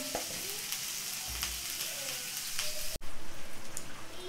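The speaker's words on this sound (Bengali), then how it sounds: "ডিম ভাজা হয়ে গেছে," Eggs frying in a pan for an egg curry, a steady crackling sizzle with a few soft stirring clicks, close and fairly quiet, with no voices.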